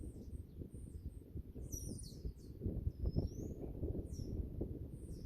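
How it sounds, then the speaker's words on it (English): Birds chirp and call outdoors on a windy day, thin high tweets scattered over a constant low rumble of wind buffeting the microphone, with no talking. "Oh God, listen to those birds."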